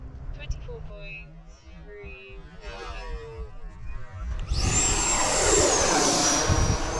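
An E-flite Viper 70mm or 90mm RC jet plane's electric ducted fan spools up, a rising high-pitched whine that grows loud and steady over a breezy outdoor background.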